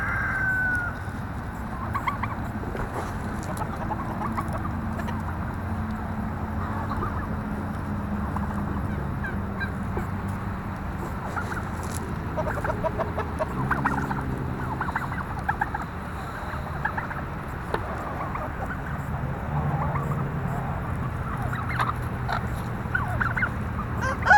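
Chickens cluck and murmur around a farmyard on a morning chore round, a steady busy flock chatter with occasional louder calls over constant outdoor background noise, and no one talks.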